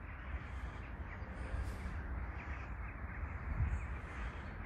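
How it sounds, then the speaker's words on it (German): A large flock of crows caws outdoors over allotment gardens, the calls distant and overlapping above a steady wash of wind or ambient noise. "die Krähen, die Vögel."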